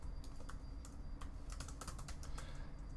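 Keys clatter on a computer keyboard as a password and values are typed, with a steady run of quick, close clicks and short bursts over a faint background hum.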